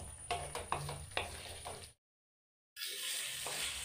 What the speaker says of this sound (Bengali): এবার 7 মিনিট ধরে মশলাটাকে মিডিয়াম ফ্লেমে ভালো করে কষিয়ে নিতে হবে।